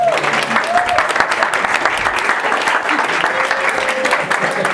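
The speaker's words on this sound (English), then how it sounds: "Give a round of applause." An audience claps steadily in a dense burst of applause, with a few faint voices mixed in.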